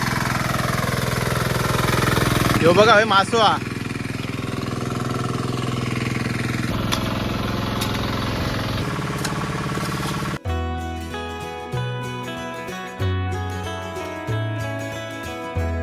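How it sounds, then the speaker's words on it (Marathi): A tractor drives into a muddy paddy field during rice transplanting in Konkan, its engine chugging steadily under a few spoken words before music takes over for the second half. "आतमध्ये घुसता बघा ट्रॅक्टर"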